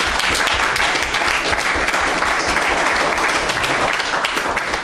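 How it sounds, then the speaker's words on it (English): Applause for the Black Stars fills a sports broadcast: dense, steady clapping from a crowd, loud and continuous throughout. "Let's clap for the Black Stars."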